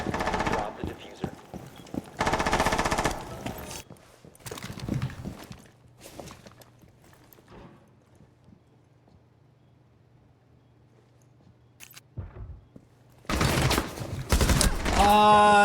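Gunfire from a first-person shooter game crackles in bursts and fusillades, loud and close, heard between stretches of quieter ambience with a voice talking over parts of it.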